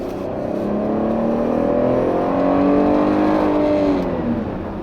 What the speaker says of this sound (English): It has a good V6 sound